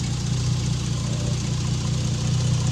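A Toyota Supra engine idles steadily up close, a smooth, continuous mid-pitched rumble with an even pulse and no voices.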